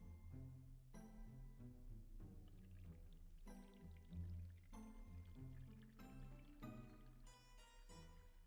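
Water pours onto a potted anthurium in short, repeated gurgling splashes that are quiet and close, with wet squishing and dripping between pours and no voices.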